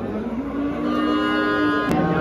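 Cattle at a livestock market in Havza: a single loud, sustained low moo close by, with a brief sharp noise near the end.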